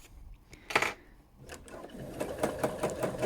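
A sewing machine quilts a small, tear-shaped fill stitch, running as a quick rhythmic burst of needle strokes after a few brief clunks, close and steady to the end.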